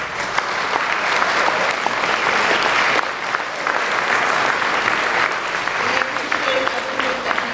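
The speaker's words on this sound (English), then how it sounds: "can we give Tom a huge round of applause for all of his continued support?" Sustained, enthusiastic applause from an audience at an annual honoring and cultural celebration, dense clapping that stays loud throughout, with a brief dip midway and a voice faintly audible beneath it.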